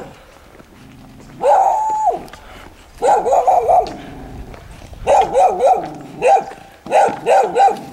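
Several dogs bark in repeated close bursts, loud and agitated, with short pauses between volleys and a single word spoken briefly near the start.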